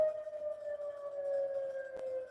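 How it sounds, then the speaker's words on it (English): A distant siren wailing down a street in Los Angeles, a faint steady tone holding through the moment with a soft click near the end. "the siren went off down the street"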